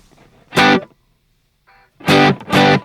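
Electric guitar played completely dry with reverb and delay switched off: a single short distorted note, a faint brief pluck, then two more short chords, each cutting off abruptly into silence, close and fairly loud.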